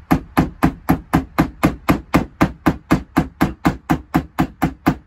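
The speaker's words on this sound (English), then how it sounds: "As you can see, it's starting to actually form over a rivet. Just gotta hold the chain in such a way. Now you can also use a ball peen end." A ball peen hammer peens a rivet on a chainsaw chain in rapid, even metallic taps, about three to four per second, loud and close, with no talking.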